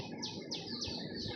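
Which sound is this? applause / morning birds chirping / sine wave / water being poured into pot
morning birds chirping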